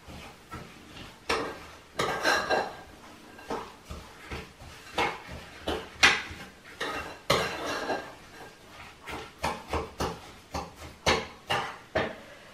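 A spoon or whisk works sugar into a walnut tart mixture in a bowl, giving a steady rhythm of scraping, knocking strokes, close and fairly even, about two per second, with no voices.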